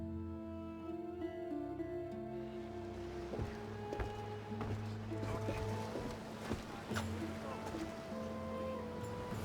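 The sailing ship Adrestia glides over open sea in Assassin's Creed Odyssey, a steady wash of water and wind beneath sustained tonal ambience, moderately quiet throughout.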